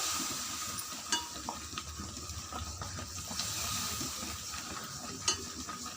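Horlicks Mysore pak batter of gram flour being stirred in a pan as oil is poured in, with a steady soft sizzle and frying hiss and a few brief scraping clicks of the spoon, no talking.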